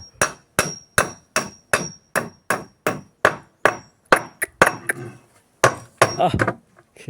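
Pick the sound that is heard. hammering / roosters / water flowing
hammering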